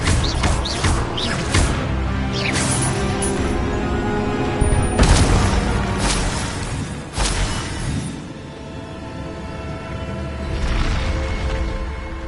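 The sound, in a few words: Expelliarmus spell cast in the video game Hogwarts Legacy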